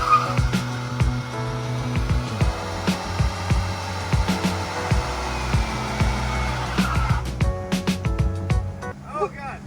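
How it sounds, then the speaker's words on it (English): Lexus IS300 doing a one-wheel-peel burnout, one tire squealing loudly over a revving engine close by, with the screech breaking off near the end; people talk over it. "You got a nice one wheel peel."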